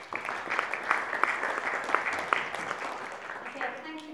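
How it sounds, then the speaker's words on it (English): Audience applause after mental health officer candidates speak at a students' union politics question time in Cardiff, a dense, steady crowd of clapping that carries on throughout at moderate volume, with a cheer or whistle rising over it. "Can we give them one huge round of applause?"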